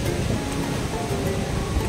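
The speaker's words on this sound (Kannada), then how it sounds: "ವೇವ್ಸ್ ಹೇಗೆ ಬರ್ತಾ ಇವೆ" Continuous rushing roar of ocean surf at RK Beach, Visakhapatnam, steady and broad, with no distinct pauses between waves.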